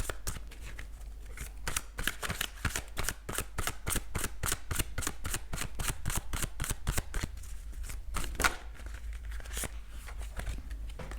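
Tarot cards are shuffled and drawn close up in a rapid run of crisp riffling snaps and flicks, dense and rhythmic, with brief pauses and no speech.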